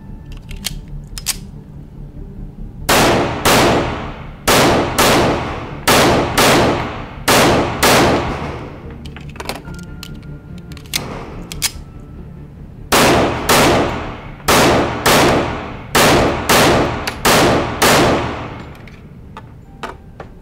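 A Nighthawk Custom AAC 1911 pistol fires two strings of rapid, loud, close gunshots, each roughly seven to eight evenly spaced reports, separated by a pause with faint clicks and handling noise.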